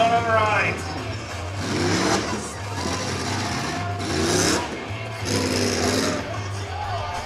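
Race truck engine at a dirt track running rough, its note surging and dropping unevenly in repeated bursts while commentators talk over it.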